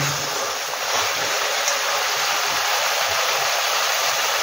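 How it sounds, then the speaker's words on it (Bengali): Water poured into a pan of pabda catfish cooking with ginger paste, a loud, steady gushing splash running without a break. "এবার আমি এখানে জল দেব।"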